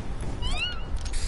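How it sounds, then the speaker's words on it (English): A cat meows once, a clear rising-then-falling call near the middle of a short stretch over a steady low background rumble. "No, that means it's happy because it's going meow!"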